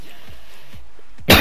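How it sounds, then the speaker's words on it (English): A single close cough bursts out suddenly at the end after a quiet stretch of soft thuds, loud and harsh. "I'm already dying of coughing"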